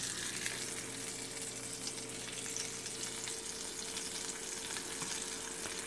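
Pork chops fry in a cast iron pan, giving a steady, close sizzle and crackle with a faint hum beneath it. No one speaks.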